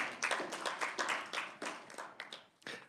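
Audience applause in a state House K-12 education budget committee hearing, a burst of moderate clapping from a small crowd that rises and fades over a few seconds.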